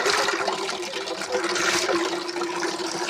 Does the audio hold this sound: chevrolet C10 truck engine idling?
no